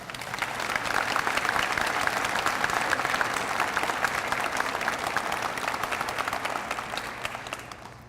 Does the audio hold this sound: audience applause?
yes